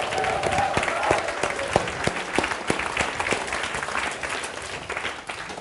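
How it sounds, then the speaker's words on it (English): A large audience claps steadily on request, with dense continuous applause throughout and a few faint cheers mixed in. "Can you all just clap for a while? Louder, louder, louder."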